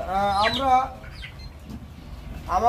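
Colour-bred broiler chickens on a poultry farm, 34 days old, giving a couple of nearby drawn-out clucks and squawks with quieter fowl noise between them.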